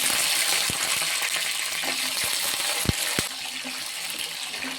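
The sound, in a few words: garlic crackling in hot oil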